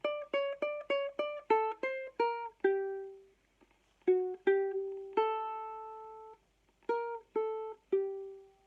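A plucked ukulele plays a simple melody: quick rising notes, then slower held tones with short pauses between phrases, clear and close.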